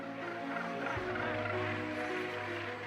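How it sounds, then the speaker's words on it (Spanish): A huge Cape gannet breeding colony on Bird Island calls in a dense, unbroken chorus of harsh, honking cries, loud and close throughout with no voices over it. "la colonia de alcatraces del Cabo más grande del mundo"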